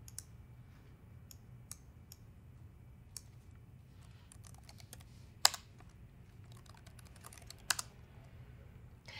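Typing a hostname on a computer keyboard, faint scattered key clicks with a couple of louder taps, over a low steady hum and no speech.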